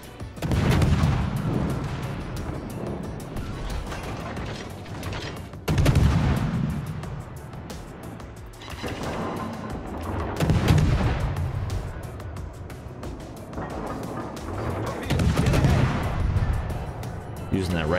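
Battleship and cruiser guns boom in repeated heavy salvos during a World of Warships naval battle involving a USS Atlanta and a New Mexico battleship, loud thuds spaced every few seconds with rumbling tails under game sound.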